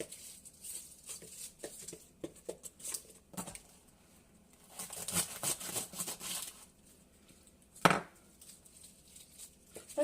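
A knife cuts through food on a board at home, giving a string of light, irregular taps and chops with short pauses between them, plus one sharper, louder knock near the end. A film is playing muted in the background.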